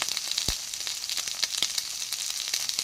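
Sliced onion sautéing in a pan for a canned tuna and cucumber lunch dish, a steady soft sizzle with faint crackles and a few sharp stirring clicks, close and alone with no talking.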